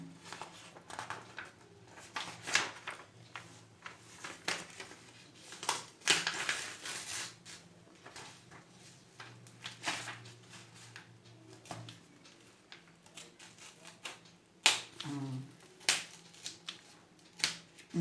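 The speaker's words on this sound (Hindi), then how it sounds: "तो वही ये ग्राफ पेपर काट दूँ इसमें से।" Graph paper being cut with scissors, a run of short crisp snips and rustles at close range in a quiet room, with no talk.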